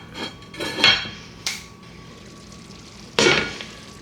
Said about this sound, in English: Now we're gonna put the lid back on and let that all melt.